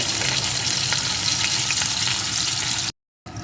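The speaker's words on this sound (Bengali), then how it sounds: "এখন এর ভিতরে আলুর টুকরোগুলোকে দিয়ে ভেজে নেব" Potato pieces sizzling in hot oil in a pan, a dense steady crackle up close, cut off briefly near the end before resuming.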